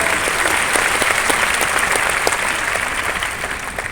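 Steady applause from a large church congregation during a sermon, dense and sustained, fading slightly toward the end.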